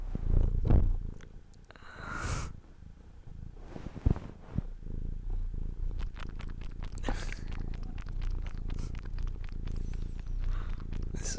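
A cat named Bubs purrs steadily and close up, a low continuous rumble with some soft handling noises around it.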